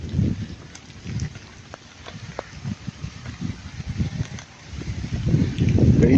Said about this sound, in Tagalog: Ayan na ang ulan, malakas na ang ulan